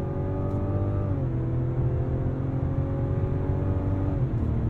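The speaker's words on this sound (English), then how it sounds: "It's a good noise. I love a six-cylinder." A Mazda CX-90 Turbo S with a 340-horsepower six-cylinder turbo engine pulls hard under acceleration from inside the cabin, a steady, loud, rising harmonic drone that dips briefly at a shift and climbs again.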